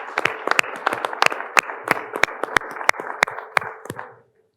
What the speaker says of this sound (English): please join me in giving them a big round of applause for their sponsorship